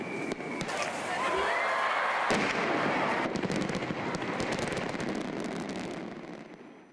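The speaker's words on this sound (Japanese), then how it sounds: "夏には盛大な花火が打ち上げられます" Dense, continuous crackling and booming of a large summer fireworks display in Kumano, Japan, going off in rapid succession, loud and sustained, with faint crowd noise underneath.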